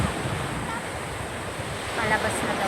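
Ocean surf at the sea washes in a steady, broadband roar, with wind buffeting the microphone and a slight swell of waves toward the end.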